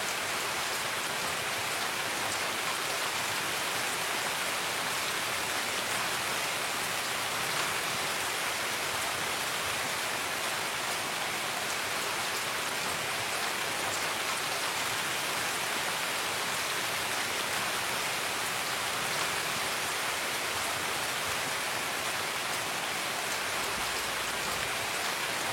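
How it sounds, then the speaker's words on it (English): Heavy rain pours steadily in a dense, loud hiss that never lets up, with no voices. "Boy, the rain got pretty loud."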